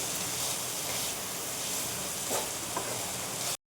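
Thick chicken masala mixture is stirred in a frying pan, a continuous moderate sizzle with soft scraping stirs that cuts off abruptly near the end, no talking.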